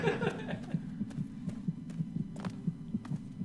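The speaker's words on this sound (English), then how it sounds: "Just keep going with my heart beating in my ear." The low-health heartbeat in the video game Fallout 3 thumps steadily and evenly, about two beats per second, fairly faint under a low hum.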